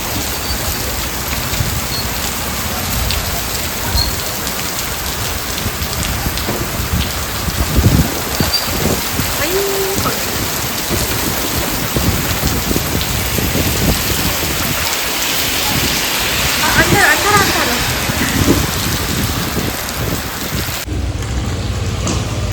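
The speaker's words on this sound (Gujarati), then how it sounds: "ખતરનાક વરસાદ ચાલુ થઈ ગયો" Heavy rain pours down in a town market during a windy storm, a dense continuous roar of drops on surfaces with slight swells, steady and loud until an abrupt change near the end.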